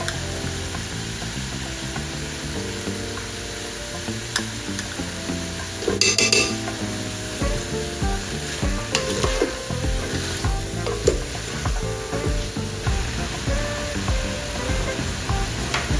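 Minced garlic and spices sizzle steadily in a hot pot of chicken and sausage jambalaya, with a spoon stirring through and occasional clinks against the pot, continuous and close with no talking.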